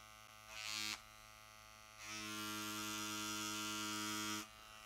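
A tattoo machine tooling leather gives a steady electric buzz. It swells into louder bursts of needle work, one short and one longer, then drops back to a lower hum, close up and with no talk.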